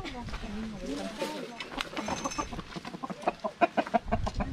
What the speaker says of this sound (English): Check out some of these chickens,